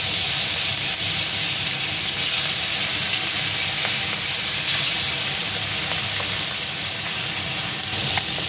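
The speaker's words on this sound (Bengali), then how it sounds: "এখন কড়াই তেল গরম হয়েছে, দিয়ে দিচ্ছি মাছ।" Fish fries in hot oil in a kadai, giving a steady loud sizzle and hiss with faint crackles throughout and no talking.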